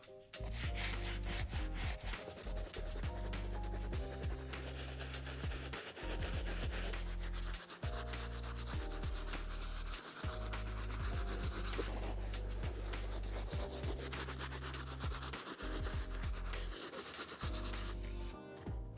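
A soft-bristle brush scrubs a suede Jordan 5 sneaker wet with cleaning solution, a close rhythmic rubbing and scratching of repeated strokes heard under steady background music.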